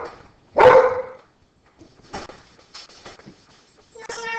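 A pet dog at home barks once loudly and close, followed by a few softer yips and whimpers at uneven intervals.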